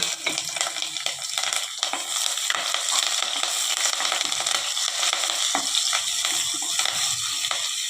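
Cinnamon, cloves, cardamom, ginger, garlic and curry leaves fry in hot oil in a pan for a country chicken curry, giving a loud, close crackling sizzle with stirring scrapes throughout.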